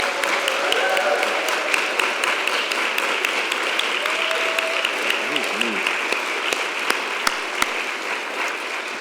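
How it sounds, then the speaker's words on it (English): Congregation applauding the youth during a worship service, sustained clapping filling the room with a few sharp louder claps standing out, and a voice briefly heard beneath it. "Can we have one more round of applause for all of those youth?"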